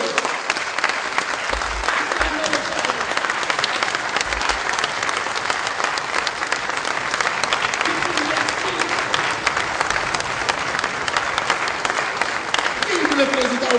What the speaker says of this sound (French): Levez-vous et acclamez-le.